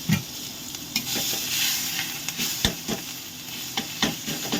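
Dried whole chilli and crushed garlic fry in hot oil over a gas flame, giving a soft continuous sizzle broken by sharp scrapes and taps of stirring.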